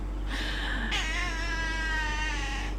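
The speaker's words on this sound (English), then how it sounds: "literally pressed record and my cat started crying" A small black cat with a curly tail meows twice indoors, a short cry followed by a longer drawn-out wail, over a steady background of white noise.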